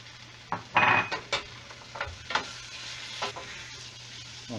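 Ginger and garlic dropped into onions frying in a pan, a soft sizzle under scraping and stirring clatter from a spoon against the pan, in short uneven strokes, without speech.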